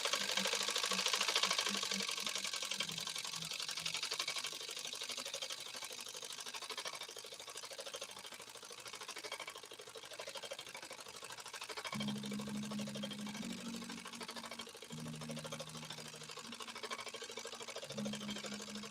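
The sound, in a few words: PFAFF 130-6 sewing machine stitching embroidery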